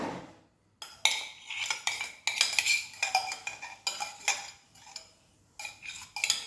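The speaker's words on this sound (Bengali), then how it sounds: "এবার এটাকে আমি ঘি দিয়ে চালটাকে পুরো মাখিয়ে নেব।" A utensil scrapes and clinks against a pot as rice is worked through with ghee for Bashanti polau, in repeated close, uneven bursts with short pauses between.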